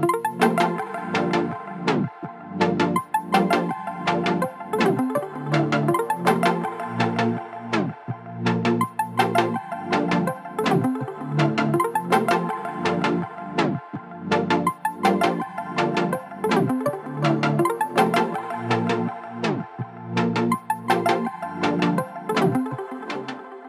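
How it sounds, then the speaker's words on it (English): Synthesizer parts in an electronic production, dense layered chords and plucks driven by punchy rhythmic hits, loud and continuous without any voices. "I'd like to start things off with the synthesizer elements in this composition."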